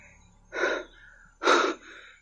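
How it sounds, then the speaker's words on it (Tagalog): Two heavy, ragged panting breaths from one person, each a loud close rush of air separated by a pause, over faint background hiss. "Hinihingal talaga ako."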